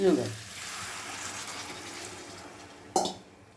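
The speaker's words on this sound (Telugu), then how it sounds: "ఇప్పుడు నేను కొంచెం వాటర్ పోస్తాను" Water is poured into a potato and cashew curry frying in a pan, so a broad hiss of liquid hitting hot oil sustains over several seconds, with a sharp burst of sizzle near the end.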